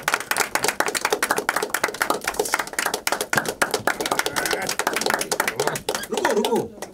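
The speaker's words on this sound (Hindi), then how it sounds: "तालियां।" Clapping from the audience at a web series trailer launch event, dense irregular hand claps running throughout and fairly close, with voices talking over them and a short vocal sound near the end.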